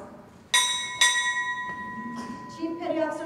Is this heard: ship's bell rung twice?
yes